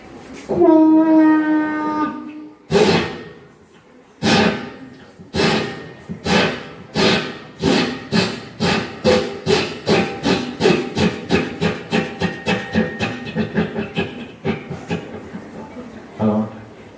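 At a Children's Day celebration, a teacher's voice mimics a steam train pulling away from a station: a long whistle-like tone, then rhythmic chuffs starting slow and speeding up into a steady rapid chugging.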